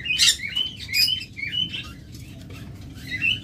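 A pair of green opaline pet birds chirps in short bright bursts, several quick tweets rising and falling close by over a low steady background rumble, with no talking.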